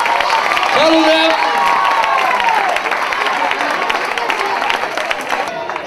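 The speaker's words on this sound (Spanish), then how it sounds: "Un aplaudiment per Fre Benjamins." Applause from guests at an end-of-season party for the Callús football club, steady clapping and cheering over about six seconds with voices and whoops mixed in, loudest at the start then easing slightly.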